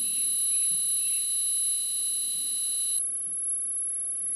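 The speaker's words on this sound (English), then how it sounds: "What happens if I go sine wave?" A steady, high-pitched sine wave tone drives an acoustic magnetic generator, sounding as a pure electronic whine that cuts off after about three seconds, leaving a faint single tone and quiet background hum.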